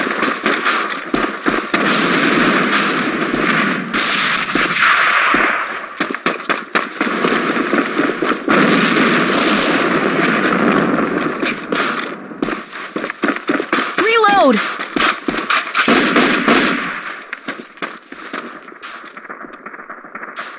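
Gunfire and a grenade blast in the online shooter A.V.A: dense rapid weapon fire and sharp bangs crackle throughout, loud and close, with players shouting over the combat.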